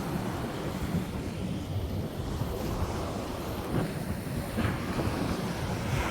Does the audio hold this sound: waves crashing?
yes